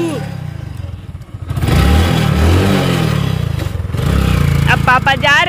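Motorcycle engine revved with the accelerator outdoors, a loud rising and falling roar close by that holds steady through most of the moment, with a voice speaking over it near the end.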